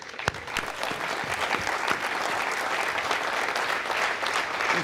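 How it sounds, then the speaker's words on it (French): A large audience at an Arianespace Vega launch event applauds steadily, with sharp individual claps standing out early in a continuous, even wash of clapping throughout. "il faut applaudir pour Colleferro"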